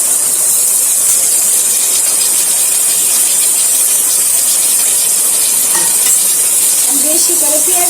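Onions frying in plenty of hot oil for restaurant-style broiler chicken bhuna, a loud, steady hissing sizzle with steamy spatter right up close, a faint clink near the end.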